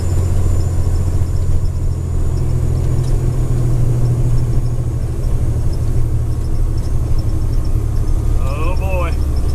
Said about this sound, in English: This truck will climb this hill in 5th gear. I'm spinning. It's muddy.